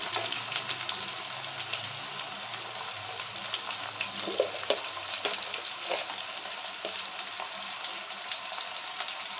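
Bombay duck curry frying in a pan while being stirred, a continuous wet sizzle with soft scraping strokes and occasional clinks of the spatula, steady and close with no talking.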